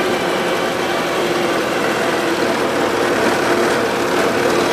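The engine of a 1977 Gravely GMT 900 tractor runs rough, giving a loud, steady close drone with a continuous low hum and no voices.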